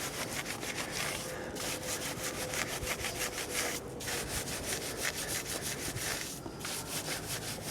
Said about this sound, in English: we're using the big boy brush. This will help us get on the inside of the alloy.